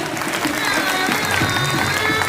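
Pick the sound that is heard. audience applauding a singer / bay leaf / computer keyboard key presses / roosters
audience applauding a singer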